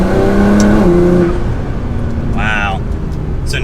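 A Nissan GT-R R35's twin-turbo engine revs hard under throttle, a loud rising engine tone with tonal harmonics up close, easing off before a brief high whine near the end.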